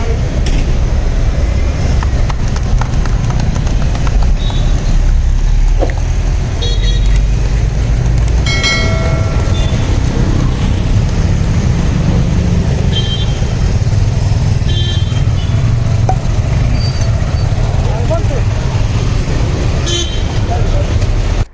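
Suzuki vehicles set off together at a group ride flag-off on the road. Engines rumble steadily and horns toot several times amid traffic noise, and people's voices carry throughout.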